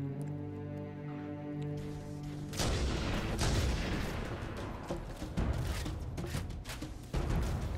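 Rifle fire in Halo: Combat Evolved, a dense run of sharp, loud gunshots and booming impacts crashing in after a held musical tone, continuing in irregular bursts with no talk.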